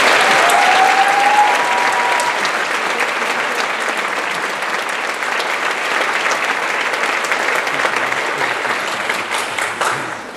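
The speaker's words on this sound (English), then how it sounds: "Please join me in a round of applause for Kylie Butler." An audience at a Huxley College graduation ceremony breaks into sustained applause, a dense wash of clapping that runs steadily for the whole stretch and tapers slightly toward the end.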